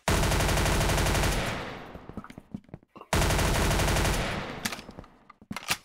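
Rapid automatic gunfire in the online shooter game Arsenal, two loud sustained bursts that each trail off into scattered shots, with no voices.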